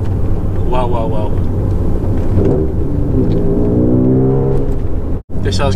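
An Alfa GTV's engine pulls under acceleration during a drive, a steady close drone with rising harmonic tones, and a voice speaks over it throughout.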